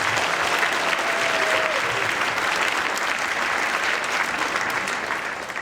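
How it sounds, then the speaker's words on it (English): Sustained applause from the audience at a middle school winter choral concert, a thick continuous roar of clapping that fades slightly at the end. "So big round of applause for that."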